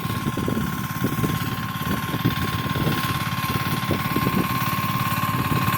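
A power tiller fitted with a rotavator ploughs a field, its engine chugging steadily with a rapid, even thumping and a constant mechanical drone, close and loud, with no speech.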